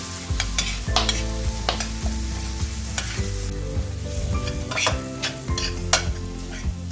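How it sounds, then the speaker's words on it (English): Zucchini pan-fries in coconut oil and butter, hissing steadily under repeated clacks and scrapes of a spatula against the pan; nobody talks. "I'll pan fry it with a little coconut oil."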